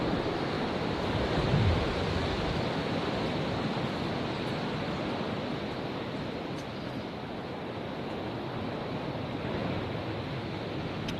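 Gusting wind and rolling ocean surf on a dirty, heavy day at the beach, a steady broadband roar with no talk.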